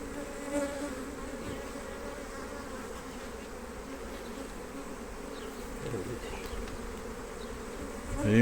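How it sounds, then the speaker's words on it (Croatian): Honeybees hum steadily and densely at an open hive during a colony inspection, a continuous near buzz of many insects with no talk. "Pčele su baš aktivne"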